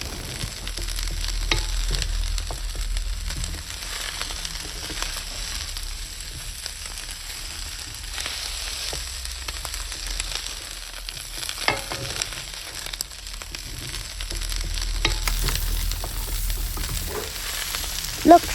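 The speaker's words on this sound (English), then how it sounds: "we will add our pumpkin with the meat and we will stir them together" Pumpkin and pork stir-fried in a pan hiss in a steady, close sizzle, with occasional scrapes of stirring breaking through the continuous frying noise; no one speaks.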